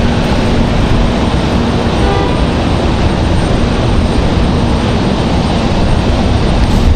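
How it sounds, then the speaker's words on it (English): A JetBlue airliner departs Raleigh-Durham International Airport, its loud, steady jet engine roar filling the air continuously with dense, broadband rumble and no speech. "JetBlue up next. Going to be our next departure here."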